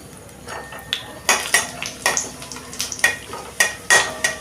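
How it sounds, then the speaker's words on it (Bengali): Bay leaves, dried red chillies and whole cumin frying in oil in a pan, a soft sizzle beneath repeated sharp clinks and scrapes of a metal spoon stirring against the pan. "তেজপাতা আর শুকনো লঙ্কা ফোড়নে দিলাম। আর সামান্য একটু গোটা জিরে দিলাম।"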